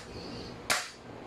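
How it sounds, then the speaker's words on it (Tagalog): An auto shotgun fires once in a video game, a single sharp, bright blast that decays quickly over a faint steady background. "Auto shotgun."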